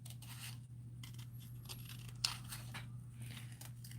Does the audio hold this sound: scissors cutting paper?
yes